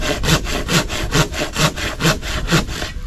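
Hand saw bought for 250 pesos cutting through wood from a tree trunk, about seven regular rasping push-pull strokes in a brisk steady rhythm, close and loud with no talk.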